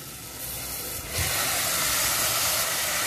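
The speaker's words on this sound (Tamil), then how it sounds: "இது நல்லா நம்ம இந்த ஆயில்ல கொஞ்சம் ஃப்ரை பண்ணிக்கலாம்" Marinated mutton frying in hot oil for a Tamil mutton kulambu: a loud, steady sizzling hiss that swells a little after the first second and then holds evenly, with no voices.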